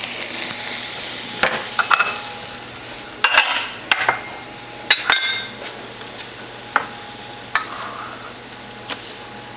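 Food sautés in a pan with a low steady sizzle, broken by sharp clinks and scrapes of a utensil stirring against the pan at irregular intervals.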